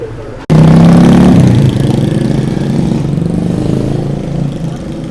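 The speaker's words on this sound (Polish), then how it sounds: "Straszny hałas od motorów." After a brief quiet moment, loud motorbike engines roar close by in Vietnam, a droning revving that settles into a steady buzz of passing traffic.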